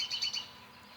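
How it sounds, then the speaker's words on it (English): A wild bird chirps outdoors, three quick high tweets in rapid succession within half a second, faint and somewhat distant, then quiet background. "That's a bird."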